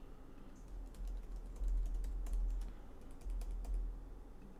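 Close typing on a computer keyboard while entering a new password, soft irregular key clicks in short bursts over a steady low hum, no talking.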